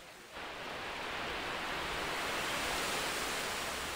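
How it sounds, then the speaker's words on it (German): A waterfall in the Bergpark Kassel-Wilhelmshöhe pours with a steady, broad rushing roar that starts after a brief quieter moment and holds evenly throughout. "Ein Wasserfall."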